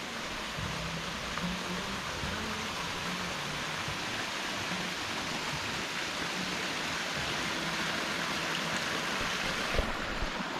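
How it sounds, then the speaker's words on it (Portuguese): Waterfall on a river in Bolivia, a steady broadband rush of falling water that stays even and continuous throughout, with no voices. "E olha a queda d'água."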